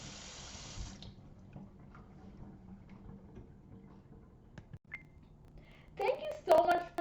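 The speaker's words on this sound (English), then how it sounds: "don't forget to turn off the water." Tap water runs in a steady, hissing stream at a sink during handwashing for about a second, then is shut off. Low room noise and talk follow, with a few brief clinks near the end.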